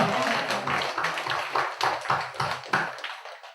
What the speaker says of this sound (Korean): 믿으시는 분은 큰 소리로 박수를 하고 영광을 돌립니다.